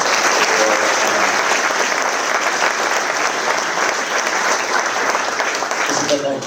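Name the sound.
concert audience applause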